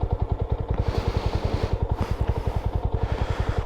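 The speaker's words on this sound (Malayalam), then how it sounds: "so let's start the bike" Jawa 42 FJ motorcycle engine running at a steady idle, close and loud, with an even, rapid thumping exhaust pulse throughout and no speech.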